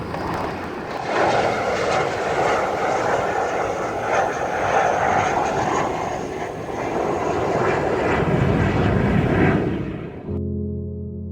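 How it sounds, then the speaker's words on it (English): A real fighter jet roars past at an outdoor aircraft display park, a loud, sustained, steady engine roar lasting around ten seconds before cutting off abruptly. "here's another real live fighter jet just for you"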